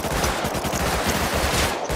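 Rapid automatic gunfire from Rust Console Edition, dense bursts of shots crackling continuously and loudly for the whole stretch with no pauses or voices.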